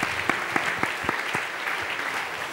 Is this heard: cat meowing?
no